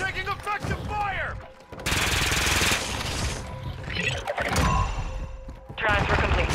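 Automatic gunfire and heavy bursts rattle through a Warzone 2.0 battle, loud and close, in sustained volleys mixed with game effects and voices calling out.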